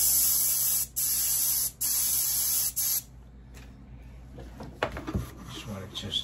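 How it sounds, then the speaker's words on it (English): An airbrush sprays paint in a test on a go-kart paint job, giving loud steady hissing bursts broken by short pauses, then stopping, with quieter handling noises afterward. "I'm gonna put it in the airbrush."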